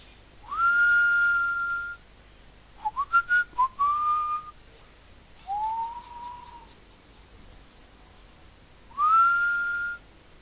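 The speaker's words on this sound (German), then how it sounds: "ich muss pfeifen, weil ich nervös bin" A person whistles a few nervous, sliding tones in separate bursts with pauses between, clear and close against a quiet background.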